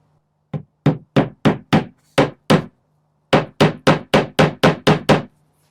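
Hammer blows drive a pin into a scrap wood tray, thirteen sharp, loud strikes in two quick bursts with a short pause between them, nothing else heard.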